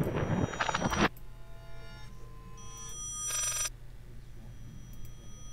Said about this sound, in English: There was a telephone there, and it's a telephone ringing but backwards.